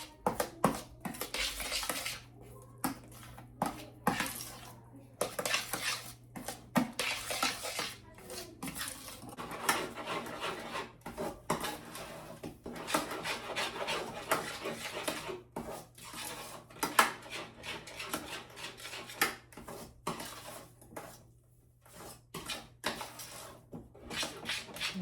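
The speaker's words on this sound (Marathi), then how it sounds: "गुठळी होऊ नये पूर्णामध्ये म्हणून सतत चमच्याने ढवळत राहायचं आहे आपल्याला." A spoon stirs flour into a mixture in a metal pot to keep lumps from forming, giving continuous close clinking and scraping strokes with no talking.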